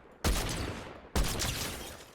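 Two long bursts of rapid automatic gunfire in Fortnite gameplay, each loud and sudden, about a second apart, the first rattling on for roughly three-quarters of a second before a brief gap and the second volley.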